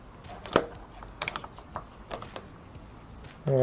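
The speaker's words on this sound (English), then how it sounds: "I don't know if you can hear that clicking, but that's the brake light switch." Faint, sparse clicks from the brake light switch on a 1986 Kawasaki Ninja 600 streetfighter as the short brake lever is fitted, a few light mechanical ticks spaced irregularly over quiet background.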